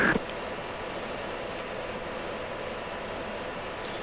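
A fighter jet engine in the Falcon BMS flight simulator game spools up during taxi, a steady broadband roar with a thin high whine held throughout, loud and continuous after a brief initial burst.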